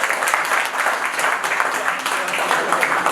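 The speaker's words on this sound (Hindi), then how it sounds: "तालियां तो बजाइए आप लोग।" Applause from the audience at an open-mic poetry evening in Patna, a lively burst of many people clapping, fairly close and loud, sustained evenly without talk.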